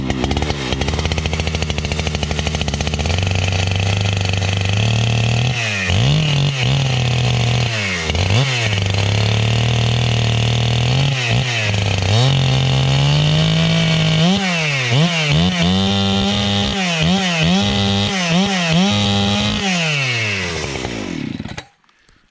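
Husqvarna 395XP chainsaw cutting through big wood, its loud engine droning steadily close by and dipping repeatedly in pitch as the chain bogs into the log, then cutting off abruptly at the end.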